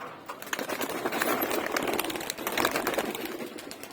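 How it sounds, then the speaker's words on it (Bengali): Pigeons released from a loft and flying off in the morning, a busy rapid flutter of many wingbeats close by, with faint cooing mixed in and no talk. "তো এগুলো কবুতরগুলো ছাড়বো, উড়াবো এখন"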